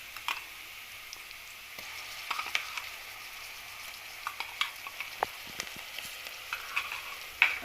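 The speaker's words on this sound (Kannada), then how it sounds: "ಈಗ ಶುಂಠಿ ಬೆಳ್ಳುಳ್ಳಿ ಪೇಸ್ಟನ್ನು ಹಾಕ್ತಾ ಇದ್ದೀನಿ." Ginger garlic paste frying in a pan for hotel-style soya pulao, with a steady close sizzle and occasional stirring taps and scrapes, and no voices.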